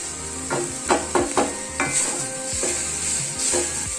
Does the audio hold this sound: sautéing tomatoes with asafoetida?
yes